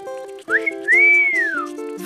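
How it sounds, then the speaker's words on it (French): A person whistles with the lips alone, not with a whistle. A short rising note is followed by a long, clear arching tone over a soft background of music. "Elle siffle drôlement bien. Oui, et elle n'a même pas besoin de sifflet."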